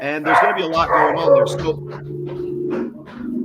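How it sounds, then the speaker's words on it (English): A dog barks at a door in the background, a few yips and barks heard under a man's close, steady talking. "She's barking at the door."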